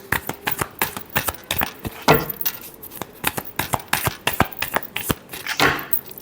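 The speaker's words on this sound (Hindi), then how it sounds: "last shuffle" Tarot cards shuffled by hand, giving a rapid run of crisp riffling snaps and flicks that comes in short, uneven bursts, close and clear with no talking.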